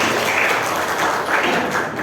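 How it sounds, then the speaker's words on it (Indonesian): Audience applause at a teacher-training session, a continuous dense patter of many hands clapping at steady loudness with no voices over it. "tepuk tangan buat kita semua"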